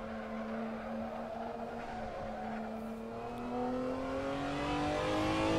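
A BMW M1 Procar in a racing sim climbs through the revs, a steady engine note rising in pitch over several seconds and swelling louder toward the end, heard alone.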